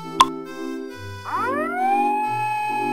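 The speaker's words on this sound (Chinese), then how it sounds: "大家的手机怎么一起响了？ 哎呀，是地震警报" Earthquake warning alarms go off on several mobile phones at once, starting with a sharp click and then rising electronic tones that swell and hold loud, overlapping one another.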